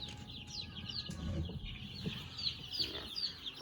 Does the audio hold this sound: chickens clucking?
yes